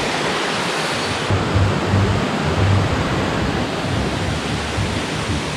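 Jumog waterfall on the slopes of Mount Lawu in Karanganyar, Indonesia, a steady broadband rush of falling water that stays loud and unbroken throughout, with a low rumble swelling midway.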